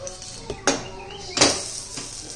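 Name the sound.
flipping stuffed idli in a pan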